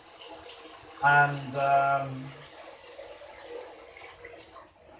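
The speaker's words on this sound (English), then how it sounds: "I'm going to be doing it with the shower on as well." Shower spray running steadily for the whole stretch, a broad rushing hiss of water indoors, with a voice speaking briefly over it partway through.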